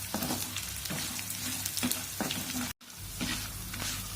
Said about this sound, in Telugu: మినప్పప్పు శనగపప్పు మినప్పప్పు ఆవాలు వీటిని కూడా వేసుకొని మనం వేయించుకోవాలి